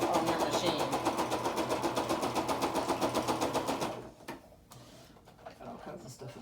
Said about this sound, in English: And I'm just using a straight stitch.